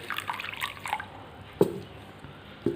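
Water poured into a container holding coarse rock salt, heard as a few close drips and small splashes, with two sharper splashes standing out over low background noise.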